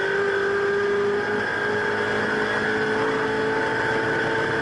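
Ford Mustang and Falcon race cars on a track, a steady, loud engine drone with sustained tonal whine held throughout, no distinct gear changes.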